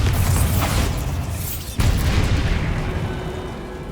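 A Bombarda blasting spell from Hogwarts Legacy erupts in a loud, close boom with a rumbling tail, then a second burst hits at about two seconds and fades slowly, with no talk over it.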